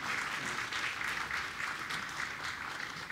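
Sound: audience applause at awards ceremony

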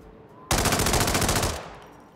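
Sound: Tac-4 AR rifle firing in Hitman video game

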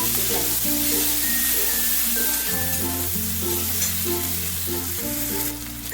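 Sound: chopped onion frying with nigella seeds

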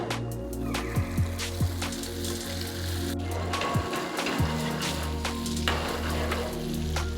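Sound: tofu frying in extra virgin olive oil in a pan

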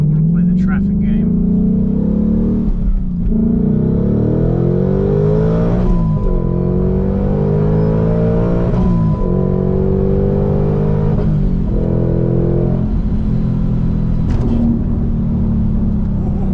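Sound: 2021 Ford Mustang Mach 1 supercharged accelerating hard

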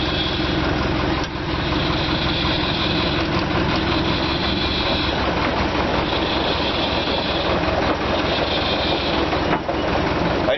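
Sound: JCB backhoe engine running

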